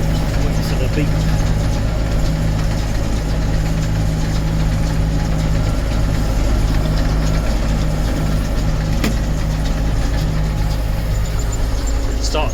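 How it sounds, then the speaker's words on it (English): A tractor engine runs steadily at constant revs while driving a baler in a field, producing a loud, deep, continuous rumble with a vibrating hum and faint clicks over it. "Starts really vibrating the tractor when it's nearly full."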